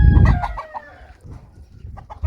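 Chickens cluck in a quick run of short calls, and a rooster crows nearby, loud and close, with further clucking returning at the end.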